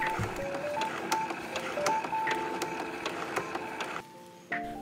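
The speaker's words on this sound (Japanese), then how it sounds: "ファスナーをつける箇所に粗ミシンをかけていきます。" A sewing machine runs long basting stitches along the seam where a concealed zipper will go, a steady close mechanical chatter with regular ticking stitch beats, stopping near the end before a brief restart.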